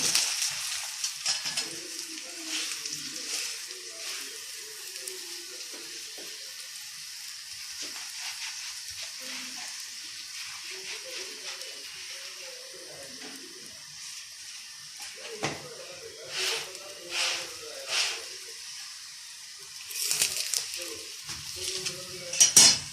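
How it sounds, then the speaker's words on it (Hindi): Radish-stuffed paratha fries in oil on a pan, a soft continuous sizzle with intermittent scraping and flipping clatters of a utensil, louder bursts toward the end, and a voice speaking quietly at times. "एक तरफ से ये फ्राई हो गई है।"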